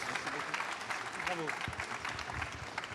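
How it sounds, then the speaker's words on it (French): An audience at a landscaping trade fair awards ceremony applauds the third innovation prize, a moderate, continuous patter of clapping with a voice speaking over it. "Je crois qu'on peut applaudir justement ce 3e prix d'innovation"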